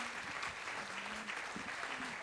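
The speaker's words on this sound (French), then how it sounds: "On peut les applaudir." Steady applause from an audience at a cultural event on early-childhood artistic awakening in Clermont-Ferrand, a continuous clapping texture at moderate distance with a faint voice or tone surfacing briefly.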